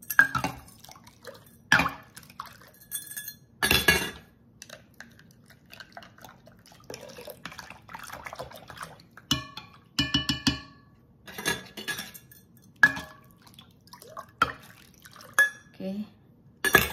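A spoon stirs yeast and water in a glass bowl, giving irregular clinks and scrapes against the glass with small splashy sloshes, close by and intermittent, with a voice speaking faintly between strokes.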